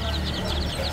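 Chicks and young chickens, including small grey ones, cluck and peep repeatedly, held in a cardboard box, with steady high chirping across the whole second over a low background hum.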